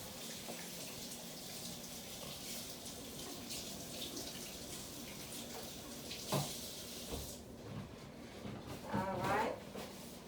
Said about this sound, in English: let me just rinse my hands off